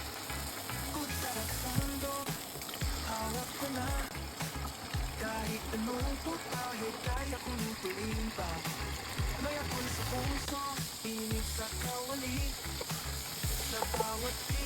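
Marinated chicken inasal frying in a hot kawali pan gives a constant crackling sizzle with stirring and spatters, close and steady throughout, while a person talks over it.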